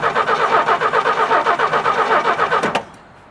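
The engine of a 1967 Chevy C10, parked for 23 years, runs loud and close with a rough, rapidly pulsing chug, then cuts out abruptly near the end and falls quiet.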